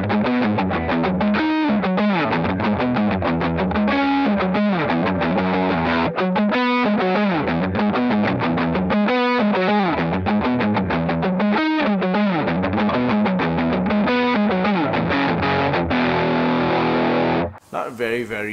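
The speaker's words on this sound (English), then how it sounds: "I kick in that SL drive to have overdrive" Electric guitar run through a Xotic SL Drive overdrive pedal into a Hotone Binary amp simulator, loud sustained distorted chords and riffs played continuously, cutting off near the end.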